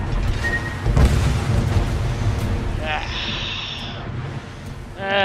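A ship blowing up in the naval combat game World of Warships, a deep booming blast at about one second that rolls into a sustained low rumble, with whooshing effects later on.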